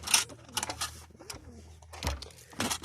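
Short low pigeon coos close by, mixed with rustling and brief flutters, in irregular bursts.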